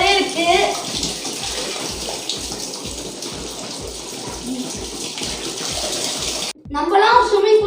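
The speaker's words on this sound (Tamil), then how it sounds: "இது ஆக்சுவலாக ஒரு ஃபால்ஸ் மாதிரியே இருக்கு." Water pours steadily like a small waterfall into a homemade backyard swimming pool, a continuous splashing gush that cuts out briefly near the end before resuming, with voices talking faintly over it.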